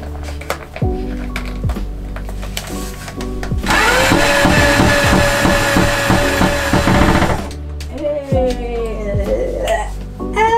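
A power drill runs during a laundry room makeover while a hook is hung, a loud steady whir lasting several seconds between quieter stretches of household sounds.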